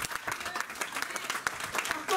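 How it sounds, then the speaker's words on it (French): A church congregation claps in applause during a sermon, a fairly faint, dense patter of hands with no distinct voices. "Donnons une acclamation."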